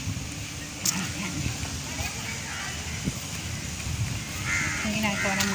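Crows caw a few times near a stadium just after rain, soft and somewhat distant over a steady wet background hiss, with a person talking quietly now and then.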